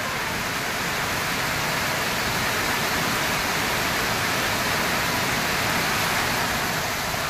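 Heavy monsoon downpour in Chandwad, a steady dense roar of rain with water rushing and flowing, loud and unbroken throughout with no voices.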